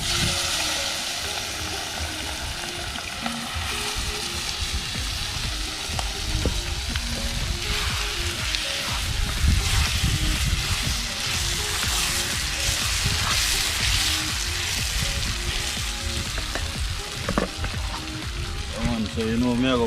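Marinated cow liver cooks in a pot over an open fire for a breakfast dish, giving a steady crackling sizzle throughout. Occasional louder pops and faint background noise sit under it.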